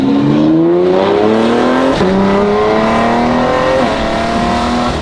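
A BMW X3M Competition with a Valvetronic cat-back exhaust and high-flow downpipe, valves closed, accelerates loudly and close by, its engine note climbing through gears with two quick shifts.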